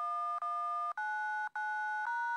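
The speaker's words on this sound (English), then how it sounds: "you can make some mad beats. You know, by pressing the little numbers here," Phone keypad buttons are pressed one after another, giving a run of steady dual-tone beeps, each held for about half a second with short gaps between them, clear and close.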